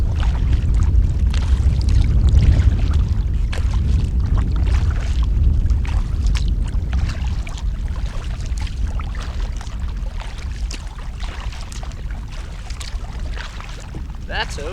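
A kayak paddled on a lake in strong wind, with steady water sloshing and paddle strokes under heavy low wind rumble against the microphone throughout, close and continuous.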